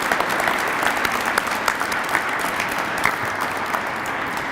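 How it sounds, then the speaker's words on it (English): A crowd applauds at a Martin Luther King celebration, loud dense clapping that holds steadily throughout, close and sustained with no talk. "let's give Andrew another round of applause."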